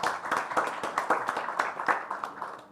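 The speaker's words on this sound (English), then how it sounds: "Please give him another round of applause." Audience applause at an Indiaspora G20 forum, a scattered patter of individual handclaps that thins out over a few seconds.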